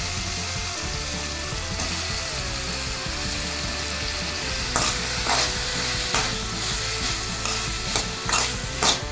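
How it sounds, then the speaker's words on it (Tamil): Drumstick (moringa) pieces and tomato sauté in a hot pan with a steady, close sizzle. Scraping stirs of a spatula come through more sharply in the second half, and no one speaks. "இதை நல்லா வதக்கிக்கோங்க"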